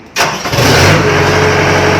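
Kubota DC93G combine harvester engine roars up abruptly and holds a loud, steady high rev, with no talking.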